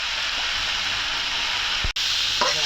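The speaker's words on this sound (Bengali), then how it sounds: "আলু দিয়ে উস্তা ভাজি, কাঁচামরিচ ছয়টা দিয়ে এভাবে ভাজবেন" Bitter gourd and potato slices frying with six green chillies in hot oil in a karai, a loud, steady, close sizzle with a brief break and the faint scrape of stirring.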